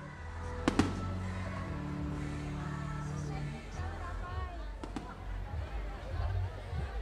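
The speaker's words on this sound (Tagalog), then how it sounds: "hindi makukumpleto ang gabi ng isang Christmas tree lighting kung hindi rin paiilawan ang kalangitan ng fireworks display" Sharp bangs from a fireworks display at a Christmas tree lighting in Antipolo go off at a distance. The pops are spaced apart, and a voice talks over a low rumble of crowd noise.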